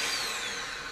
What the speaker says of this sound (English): Now the drill is going to work.